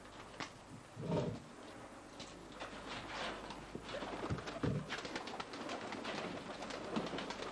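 Racing pigeons in a loft give soft, low cooing calls amid a dense, steady wash of background noise, with occasional louder throaty bursts and light scuffling; no one speaks.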